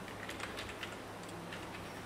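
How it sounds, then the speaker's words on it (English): Someone types an email address into a web form on a computer keyboard. The soft, faint key clicks sit low under a steady background hiss, with no talking. "Now I am typing the email ID"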